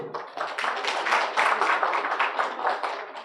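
Audience applause at a university scholarship presentation ceremony marking an anniversary, a dense steady clapping from a crowd lasting throughout, moderately loud and close with no clear talk over it.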